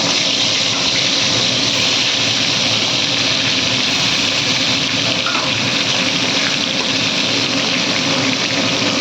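Pieces of fish hit hot oil one by one for an aloo macher dish and fry with a loud, continuous hiss and sizzle. The sound stays close and steady from start to end, with no voices.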